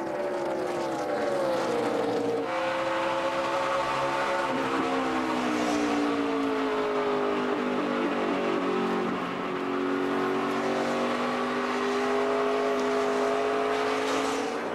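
NASCAR Nationwide Series race cars roar around the Phoenix track in the 2013 Dollar General 300, a loud continuous engine drone with shifting pitch as cars pass and rev, no talk over it.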